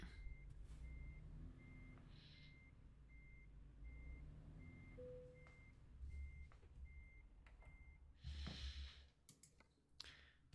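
A truck's reverse alarm in a special-transport trucking video game, a steady series of evenly spaced beeps over a low diesel engine rumble, with a brief air-hiss burst near the end.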